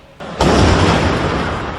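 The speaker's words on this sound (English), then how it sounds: "That's the sound of one of 2 explosions near a crowded soccer game" Suicide bomb explosion near a crowded soccer stadium in Paris, a sudden loud boom that swells into a sustained, rumbling roar and slowly fades, with no voices over it.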